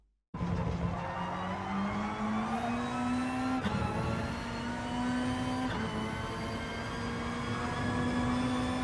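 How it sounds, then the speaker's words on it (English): A Gr.3 race car engine in Gran Turismo Sport climbs loud and steady through the gears, its rising whine broken by two quick shifts, with no talking. "Once my car is aligned with this column, I shall begin to build the throttle."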